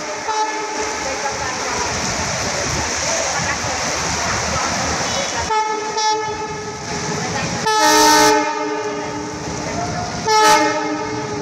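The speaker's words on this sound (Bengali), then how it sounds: "দেখতে পাচ্ছেন কমলাপুর থেকে কি সুন্দর ট্রেন চলে আসছে।" A train rolls past near Kamalapur in Dhaka, a loud rumble and clatter of wagons, then the horn sounds in long harmonic blasts with two sharp louder bursts near the end.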